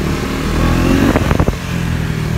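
A Yamaha R15 V3 motorcycle is ridden with its engine droning loudly and steadily, buffeted by wind, and a brief clattering rattle rises midway.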